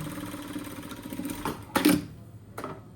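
A sewing machine whirs briefly, sewing a seam on a tracksuit, followed by a couple of sharp clicks and handling noises at close range, with no one speaking.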